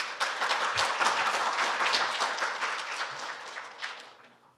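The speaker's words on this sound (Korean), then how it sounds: "따뜻한 박수로 맞이해 주시기 바랍니다." Warm audience applause at a university AI forum greets a speaker on medical AI research, a dense steady clapping that fills the hall and slowly tapers off near the end.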